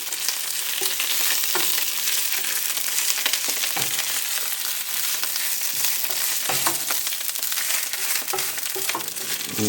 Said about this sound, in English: So we're just going to saute it for just a minute to get it just barely wilted